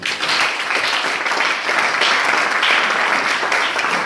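Church congregation clapping in praise during a sermon, a dense, steady round of applause filling the room for several seconds, loud and close, with no clear talking.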